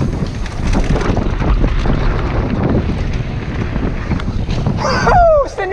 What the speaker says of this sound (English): Did that wind get me?